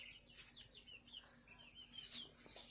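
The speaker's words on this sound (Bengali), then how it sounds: "কি সুন্দর নাদুস নুদুস ছোট ছোট মুরগির বাচ্চা" Small, plump chicks in a rural yard give soft, repeated high peeps and light clucks. The calls are faint and scattered across a quiet background.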